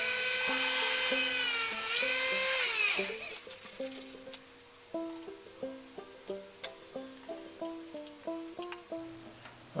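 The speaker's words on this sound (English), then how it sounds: "I'll go ahead and drill the other side before I tighten that down." A high-pitched drill whines for a few seconds while drilling a hole for banjo pegs, then winds down, followed by a series of short, evenly spaced mechanical pulses.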